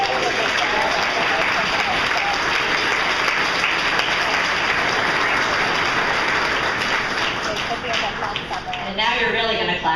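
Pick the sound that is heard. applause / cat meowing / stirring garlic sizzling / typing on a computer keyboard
applause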